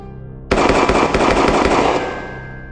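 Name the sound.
gunshots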